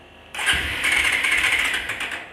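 A Bajaj Pulsar 220 motorcycle engine cranks on its starter without catching, a loud, steady mechanical whirr that churns on for about two seconds after a short lead-in, close up, with no talking.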